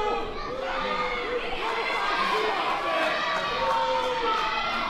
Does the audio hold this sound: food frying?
no